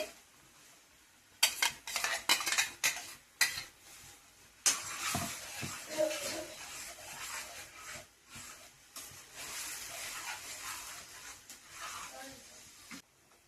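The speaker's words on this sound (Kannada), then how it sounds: "ಮಸಾಲ ಎಣ್ಣೆಯಲ್ಲಿ ಚೆನ್ನಾಗಿ ಫ್ರೈ ಮಾಡ್ಕೋಬೇಕು" Masala for a village-style stone crab curry is stirred and fried in oil in a pan, with irregular scraping and clinking of a spoon against metal and a faint sizzle, while someone talks over it.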